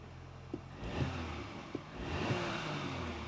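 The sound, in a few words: Audi Q5 engine running after turbocharger replacement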